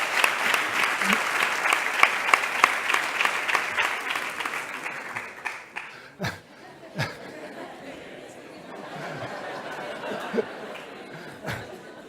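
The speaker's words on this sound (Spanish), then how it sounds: "Así que aplaudir a Pedro" Audience at a conference gives dense, sustained applause that gradually fades, with scattered laughter and chatter continuing as the clapping dies away.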